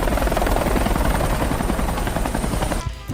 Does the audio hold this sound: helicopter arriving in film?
yes